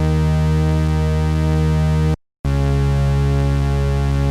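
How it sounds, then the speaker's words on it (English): A loud, buzzy, sustained square-wave synth bass tone that cuts off briefly for a moment before resuming with the same steady drone. "So if I exaggerate the sound, the synth bass sounds like this."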